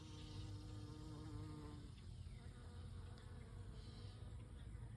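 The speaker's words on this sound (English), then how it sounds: "You can hear all the buzzing, all the pollinators." Pollinating insects buzzing around a butterfly garden, a faint continuous droning hum of several flying insects with tones rising and falling as they pass, heard without any talk.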